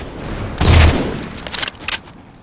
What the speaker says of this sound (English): Incineration cannon.